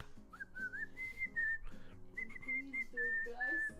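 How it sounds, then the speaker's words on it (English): A person whistles a wavering tune in short phrases, the melody clear and fairly close over soft background music. "And I start to whistle."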